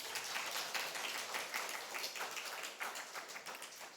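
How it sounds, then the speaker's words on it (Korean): Congregation applause during a church sermon, a dense patter of many hands clapping for a few seconds, moderately loud and filling the hall, with no voices over it. "박수 한번 쳐주세요."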